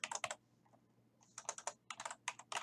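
Keys clatter on a computer keyboard as the closing lines of a business letter are typed in Word 2019, fast bursts of close keystrokes separated by a brief pause, with no voice.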